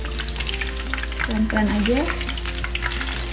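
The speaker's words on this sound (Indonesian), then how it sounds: "Kita goreng sampai golden brown ini." Flour-battered fish fries in hot oil, a dense close sizzle that holds steady throughout, while a voice briefly speaks over it.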